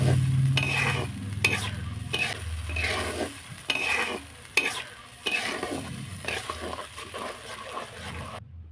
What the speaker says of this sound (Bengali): জল দিয়ে মশলাটা ভালো করে কষাতে থাকব